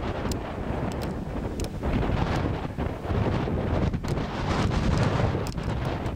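Strong wind gusts buffet the microphone outdoors, producing loud, uneven rumbling bursts that rise and fall continuously, with no talk.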